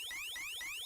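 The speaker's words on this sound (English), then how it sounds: "we start right off with the Honda Civic car alarm" An alarm from the Sega game Mega Man The Wily Wars plays as a fast run of about four rising electronic sweeps, evenly spaced and fairly quiet, like a car alarm.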